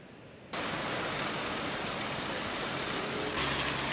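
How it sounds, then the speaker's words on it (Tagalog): Heavy rain pouring during Super Typhoon Julian in Ilocos Norte, Philippines, a dense, steady roaring hiss that starts abruptly and stays loud and unbroken, with no voices. "Mel, maghapon pa rin malakas ang buhos ng ulan sa ilang bayan dito sa probinsya ng Ilocos Norte."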